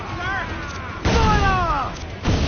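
Two heavy ship-cannon booms from Assassin's Creed 4 Black Flag land about a second apart, loud and close, with shouting voices over the battle.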